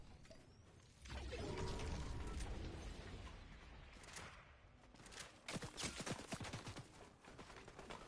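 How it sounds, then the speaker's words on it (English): SMG gunfire in Fortnite played on PS5: mechanical clicks and clatter give way to rapid bursts of close automatic shots, then scattered fire. "I swear that's an SMG that we're shooting with as well"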